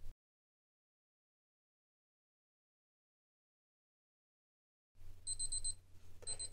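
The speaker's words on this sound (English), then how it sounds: "that's the actual countdown timer sounding that the actual time has elapsed" A Casio W-214H digital watch sounds its countdown timer alarm: after a long silence, rapid clusters of thin, high electronic beeps start and repeat in short bursts.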